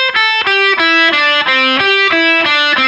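Distorted electric guitar playing a slow alternate-picked rock lick that cascades from high strings to low: evenly spaced picked notes in a steady rhythm, loud and alone.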